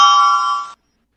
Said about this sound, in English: Sound like a doorbell.